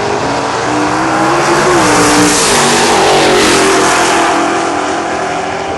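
A car carrying a 600-cubic-inch engine revs loudly and close by, a steady, thick engine roar that swells and bends in pitch partway through, with no talk over it.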